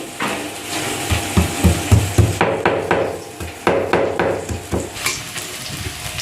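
Garlic being crushed with a run of close, irregular pounding thuds and grinding rubs, some strokes heavier than others.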